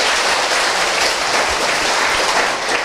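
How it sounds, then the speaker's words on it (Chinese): A large indoor audience claps together in a sustained, close, even burst of applause that fills the whole stretch without any talk. "我们也为自己拍手啊！"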